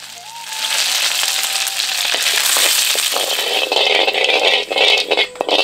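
Mustard seeds spluttering and popping in hot butter in a pan, a loud, close, continuous crackle and sizzle with rattling scrapes, carrying on alone for several seconds.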